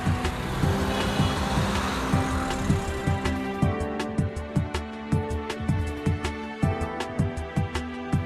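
Car engine started by pressing the Start button, a brief starter whir and catch at the outset followed by a steady idle with a rhythmic ticking pulse repeating close by.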